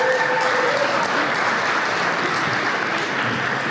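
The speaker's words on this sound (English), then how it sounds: "Give a huge round of applause to Mr. Omar Chowdhury" Audience applause at an event, a dense, steady wash of clapping from a roomful of people that holds at even loudness throughout.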